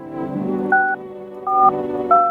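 Three short touch-tone beeps in an even sequence over a steady low hum, dialing a telephone inside the video game No, I'm Not A Human.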